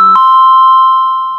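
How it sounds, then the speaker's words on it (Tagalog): A home doorbell gives a single loud, close electronic chime whose clear tone rings out and slowly fades. "nag-doorbell."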